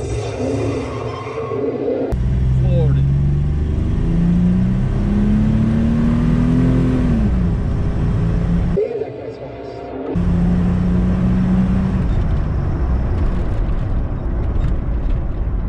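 An LS-swapped Chevrolet C10 truck pulls away and accelerates, its engine rising steadily in pitch through a loud, close run, easing briefly before climbing again.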